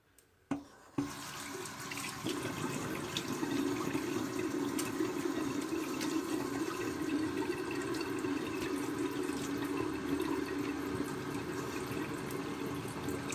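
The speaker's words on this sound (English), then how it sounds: "Okay, I'm gonna rinse off." A tap runs steadily into a sink while someone rinses off during a wet shave with a vintage 1958 Gillette Fatboy razor; a couple of clunks open before a continuous, even rush of water that fills the rest.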